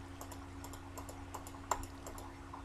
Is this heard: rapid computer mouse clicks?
yes